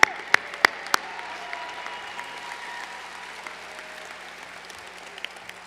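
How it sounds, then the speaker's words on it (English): Convention crowd at the Utah Republican Party organizing convention applauding for party leader Carson, a dense wash of many hands clapping with a few sharp claps near the start, sustained and fairly steady before easing slightly. "I want to give him a big hand and round of applause."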